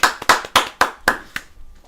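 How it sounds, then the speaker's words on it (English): A few people clap in a small room while a podcast gets going, six or seven loud, uneven claps close by, then quiet. "Clap it up."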